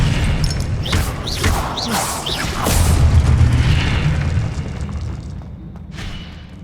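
Spell blasts crack and boom in Hogwarts Legacy gameplay on PS5, a dense run of bright magical bursts and whooshing impacts in the first half, easing into a low rumbling tail, loud and close without speech.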